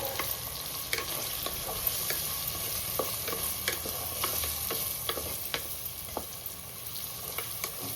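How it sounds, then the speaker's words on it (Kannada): A biryani mix with chili powder is stirred in a pan over a low, steady sizzle, with many quick scraping ticks from the spoon at an uneven rhythm, fairly quiet and close, with no talk. "ಈಗ ಇದನ್ನು ಚೆನ್ನಾಗಿ ಕಲಿಸ್ತಾ ಇದ್ದೀನಿ, ನೋಡ್ಕೊಳ್ಳಿ."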